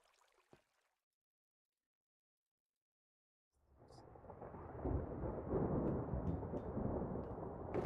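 A brief faint tick, then silence, before a steady roar of heavy rain and rumbling thunder swells up and continues loudly to the end: a thunderstorm in Minecraft.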